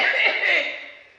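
One short, close cough, a single burst that tails off quickly.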